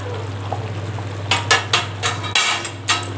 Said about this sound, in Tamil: நல்லா கிண்டி விட்டுக்கலாம்.